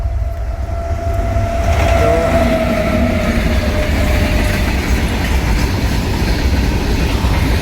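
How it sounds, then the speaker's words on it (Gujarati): A train rushes past close by, a loud continuous rumble of wheels on rails with rhythmic clatter and a faint squeal, no voices. "આ રેલગાડી આવી ગઈ છે"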